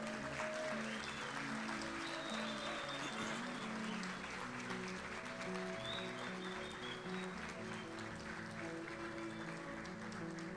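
Audience applause at an evening gathering honouring a patron, steady sustained clapping from a sizeable crowd with a murmur of voices and some tonal background sound underneath, holding at an even level throughout.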